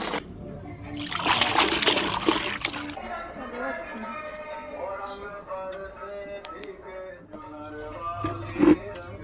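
Coloured water splashes out of a bucket during Holi play, a loud burst of sloshing and splattering early on, then quieter trickles and splashes beneath people talking.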